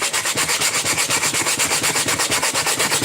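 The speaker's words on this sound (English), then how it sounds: "This is why I hate sanding." A wooden guitar fingerboard is sanded by hand, making fast, steady back-and-forth scratchy strokes, several per second, close and loud with no talking.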